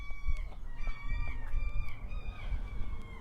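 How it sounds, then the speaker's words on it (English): Chickens cluck and call outdoors, with a rooster-like crow and repeated bird calls over a rustling background. "Spend time listening to the birds."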